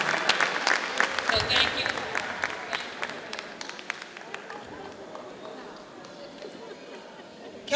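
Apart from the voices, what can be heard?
applause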